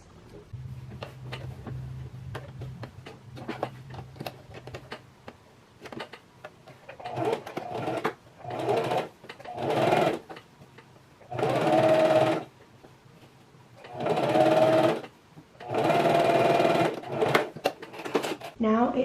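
A sewing machine runs a straight top stitch along a pocket seam on a strapless drop-waist dress, in several bursts of a few seconds each separated by pauses, close up, with speech around it.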